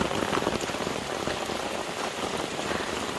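Steady rain patters densely on a wet hiking trail, a continuous close hiss of drops with no voices.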